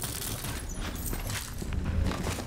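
Weapon gunfire in the video game Borderlands 3, a quiet burst of rapid, crackling shots with several sharp transients over a busy, muffled game background.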